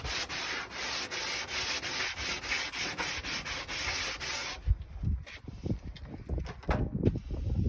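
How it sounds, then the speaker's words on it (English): Wood is sanded with steady, rhythmic rubbing strokes for several seconds, then the sanding stops and scattered knocks and handling noises follow, with no talking. "a good sanding as well."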